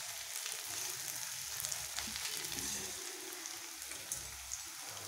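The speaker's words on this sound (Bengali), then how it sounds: "পেঁয়াজটা ভাজা হোক।" Onions sizzle and crackle steadily in a hot pan of oil, a continuous close frying hiss with small pops and no talking.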